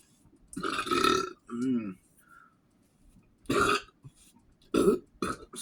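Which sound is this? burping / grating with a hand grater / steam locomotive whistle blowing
burping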